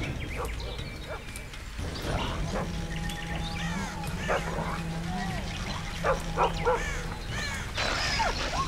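A dog in The Witcher 2 yips, barks and whimpers in short repeated bursts amid game ambience, with scattered bird-like chirps.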